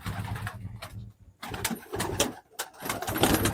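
Taki pigeons coo softly in low, throaty bursts, several overlapping calls close by, with brief pauses between them.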